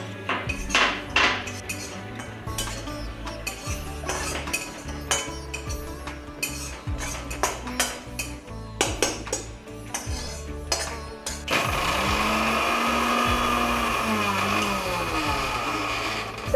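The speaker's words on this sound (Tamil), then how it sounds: "இந்த கசகசாவை நம்ம இப்படி வறுத்துட்டு மிக்ஸில லேசா திரிச்சுக்கணும், பொடி பண்ணிக்கணும்." Poppy seeds are dry roasted in a pan with no ghee, stirred with metal clinks and scrapes in an uneven rhythm. A steady, dense rushing noise then takes over near the end.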